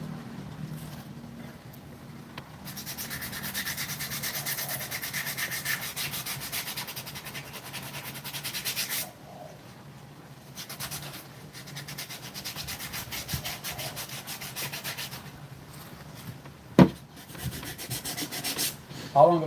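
Steady scratchy rubbing of sandpaper on wood by hand, long continuous strokes broken by brief pauses, close and fairly loud.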